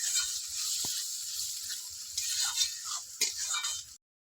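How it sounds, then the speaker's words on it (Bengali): Masala with cashew paste, sour yogurt and sugar sizzles steadily in a pan for a Bengali potato-cauliflower curry, a bright hiss that swells now and then and has occasional soft stirring knocks, then cuts off abruptly. "এইটা কিছুক্ষণ একটু কষে নেব মশলাটা"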